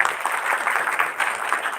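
An audience applauds a speaker at a dental scientific session, with busy, uneven clapping held at a fairly close, even level throughout and no talking.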